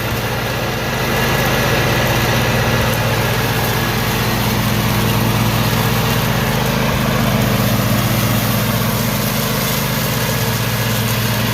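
A Cub Cadet Super LT 1554 lawn tractor engine drones loudly and continuously while mowing, a steady close rumble with mower whine that holds for the whole stretch.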